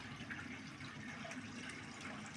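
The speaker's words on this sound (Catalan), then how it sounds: "Se sent soroll d'aigua" The Sió river spring at Font de Gàber flows with a soft, steady rush of water, faint and continuous with no talking over it.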